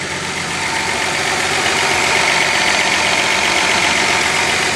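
Nissan Z car engine idling with valves needing lash adjustment, a steady continuous rumble with a faint ticking texture, loud and close with no pauses or voices.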